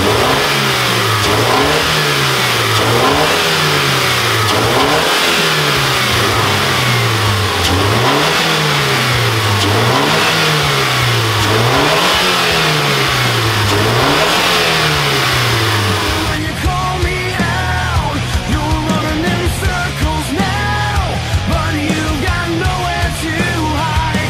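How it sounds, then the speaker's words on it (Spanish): A car engine with its original stock air filter revs up and down in a steady, repeating rhythm, loud and close, before the tone shifts toward a rougher, fuller rumble near the end. "Vamos a escuchar el motor con el filtro original."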